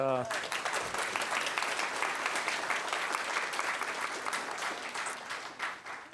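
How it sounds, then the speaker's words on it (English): An audience at a live public science talk breaks into sustained applause, a dense and even roar of many hands clapping that continues for several seconds before tapering off at the end. "I got my applause."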